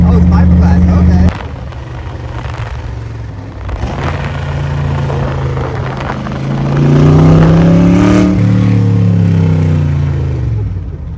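A fiberglass-bodied Shelby Cobra replica is heard from inside the car. Its engine drones loudly and steadily, then revs up in rising surges, and people talk over the roar.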